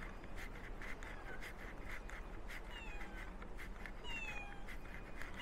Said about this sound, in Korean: 여기도 고양이가 있네.